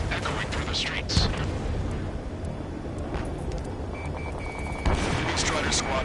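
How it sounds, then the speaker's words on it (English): Heavy booms and gunfire roll under a continuous low roar of jets in Ace Combat 7, with a voice talking faintly over the din. "gunfire and the roar of jets echoing through the streets"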